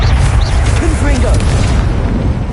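Confringo, an explosive fire spell in Hogwarts Legacy, goes off as a loud, dense, rumbling blast. A steady, thick low roar fills the whole moment with no break.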